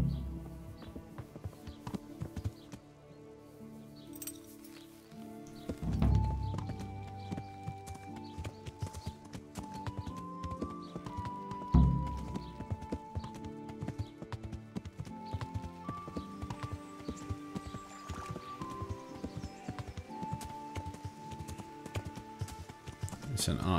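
Horse hooves clip-clop in a steady trotting rhythm in the video game Kingdom Come: Deliverance, running throughout over a background musical score with a couple of heavier thumps. A person talks over the sound.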